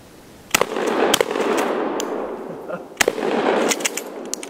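Mossberg 590 A1 shotgun fired outdoors in snow: several sharp, loud blasts, one pair close together early and another shot about halfway, each followed by a long rumbling echo across open ground. No one speaks.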